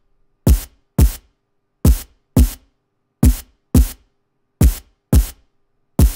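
Drum and bass kick drum programmed in Serum with a boosted thump around 250 Hz, struck nine times in an even, punchy rhythm, each hit loud and short with a quick decay and silence between.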